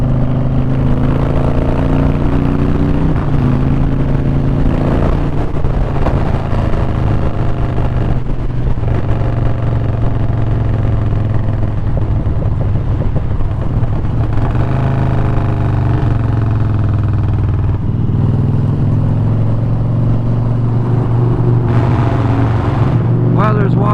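A motorcycle engine drones continuously while riding on a warm winter day around Hampton Roads, a steady loud rumble with shifting revs, joined now and then by the rider's voice talking over it.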